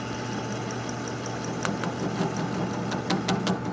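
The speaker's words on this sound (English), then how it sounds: "I'm going to cut all the way through while it's on the lathe." A wood lathe spins a bud vase blank with a steady, even mechanical hum and whir, close by, with a few sharp ticks and light scraping from the gouge toward the end, and no talking.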